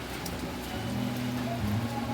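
Steady rain falls on a late night before the new year, a soft continuous patter with no talk over it.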